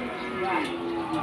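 A cow gives a single drawn-out moo at the Paingan cattle market in Winong Kidul, Pati, Central Java, fairly close and clear over a faint market murmur.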